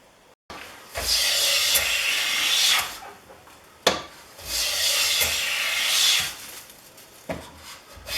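A restored Stanley No. 605 Bedrock jack plane takes long strokes across a wooden board, each a close, rasping hiss of shaving peeled off, about four passes with short pauses and a knock between them.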